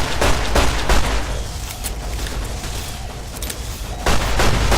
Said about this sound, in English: I'm not understanding why they keep exploding when they die.